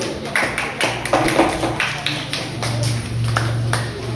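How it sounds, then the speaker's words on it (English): A small audience at an Independence Day celebration claps, a sparse uneven pattering of hands close by with a steady low hum underneath. "Another big round of applause."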